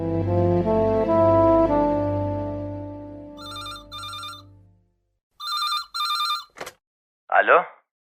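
A telephone rings with a melodic ringtone, followed by two bursts of a sharp electronic bell ring, then a brief click and a short voice-like sound at the end, heard alone without talk over it.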